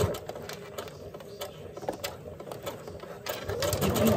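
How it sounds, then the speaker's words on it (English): A sewing machine stitches and backstitches through fabric for a bowl koozie, a quiet rapid mechanical clatter in short bursts with small pauses. "So I'm going to sew, backstitch, and now carefully making sure I have all 4 pieces sewn together."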